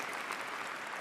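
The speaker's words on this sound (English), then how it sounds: "Special round of applause for Craig." Audience applause during a Cisco Live 2025 keynote in Melbourne, a steady dense wash of clapping throughout, fairly distant and even.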